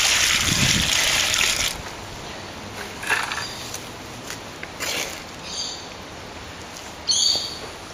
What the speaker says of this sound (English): soak the sand